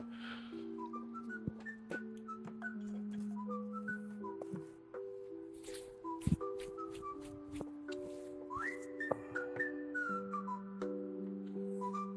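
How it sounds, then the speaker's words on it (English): A melodic whistled tune with clear rising and falling notes, accompanied by a soft low-pitched backing line and a few faint clicks. "I like this whistling song."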